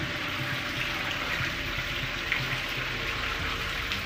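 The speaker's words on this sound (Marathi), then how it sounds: "चला तिथून पाणी येत आहे" Water flowing from a spring inside a rocky cave, a steady close trickle and gurgle running continuously without pause or voices.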